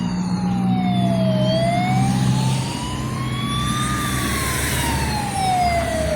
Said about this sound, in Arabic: تسمع لومبيلونس